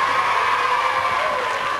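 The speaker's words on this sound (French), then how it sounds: "On peut les applaudir pour les encourager." A studio audience claps and cheers for children's game show contestants on a 1997 French TV show, a steady dense crowd roar filling the whole short stretch.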